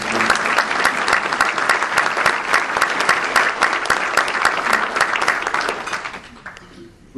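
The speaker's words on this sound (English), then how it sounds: "we deserve an applause for that" A civic audience at a city address applauds loudly and continuously for several seconds, a dense wash of clapping that fades out toward the end.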